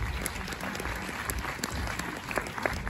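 An audience at a film screening at the Méliès cinema in Montreuil claps in a dense, steady burst of many hands. The room sounds moderately close and a little muffled.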